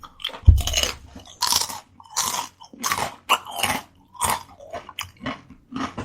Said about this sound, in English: Listen to this crunch here.